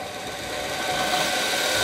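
An Einhell BT-US 240 belt sander runs steadily, a continuous bright whirring hum of motor and belt that holds even and close throughout.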